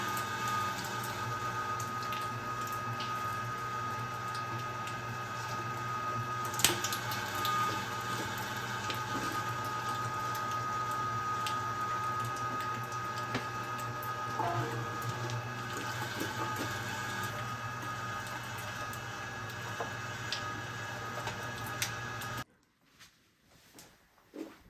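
A meat grinder hums steadily while grinding bear fat, a constant motorized whir with faint clatter, running for a long stretch before it abruptly cuts off near the end.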